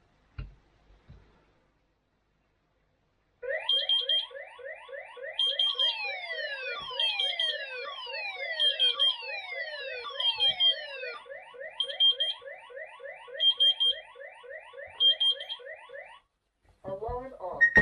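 An X-Sense leak detector base station sounds its alarm during a simulated water leak: repeated shrill electronic beeping with warbling tones in bursts for about thirteen seconds, loud and close, following a few faint handling clicks.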